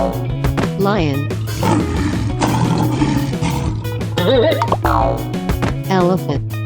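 A lion roars in a 3D animal video game, a growling roar rising in the middle of the clip over looping game music and sliding sound effects.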